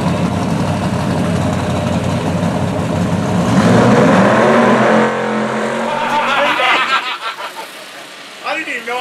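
An Outlaw Drag Radial race car at Ohio Valley Dragway does a burnout: a loud, sustained engine roar with tire noise that swells and then drops away, followed by quieter pulsing sounds.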